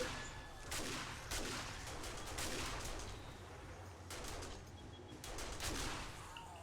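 Several gunshots crack at intervals in a 7 Days to Die shooting session, fired at a bird, fairly faint and spread across the few seconds with a steady background rumble.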